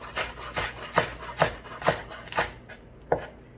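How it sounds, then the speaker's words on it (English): A knife chopping green onions on a cutting board, a steady series of about seven crisp, close cuts at an even rhythm, with no talking. "green onions are really fun to chop once you get really comfortable with the knife"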